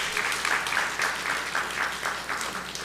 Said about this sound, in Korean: 축하의 박수를 하시기 바랍니다